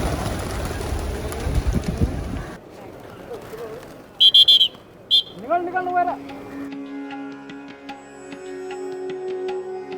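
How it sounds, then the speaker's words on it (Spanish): Pigeons coo in Kathmandu, Nepal, where large flocks crowd the streets. Soft, brief coos and bird calls are heard outdoors after a stretch of wind noise, and someone talks nearby. "lleno de palomas por todos lados."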